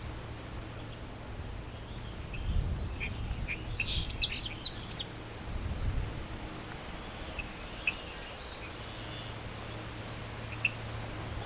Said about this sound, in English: Willow flycatcher sitting in front of me again.